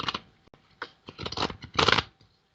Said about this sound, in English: My shuffling is not the best tonight,